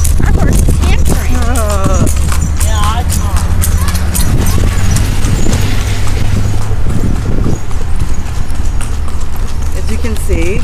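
Horse hooves clip-clop in a steady rhythm on a hard street in Egypt, close by, while people talk over the noise.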